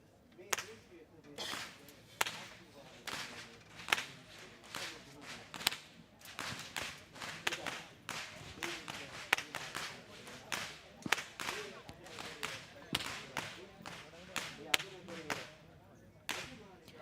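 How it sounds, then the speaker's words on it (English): Whip crackers at the front of the Kandy Esala Perahera procession snap their whips again and again, loud sharp cracks in an uneven rhythm over crowd noise. "Walking up front with the sound of thundering whips piercing through the skies are the whip crackers announcing that the procession has commenced"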